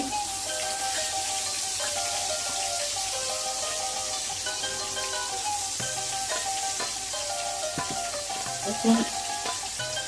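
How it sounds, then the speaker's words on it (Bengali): Eggplant slices fry in oil with a steady sizzle that crackles throughout, occasional pops and a light clunk near the end. "ভাজার সময় বেশি সময় লাগে না এখন সবগুলো বেগুন আমি দিয়ে দিচ্ছি"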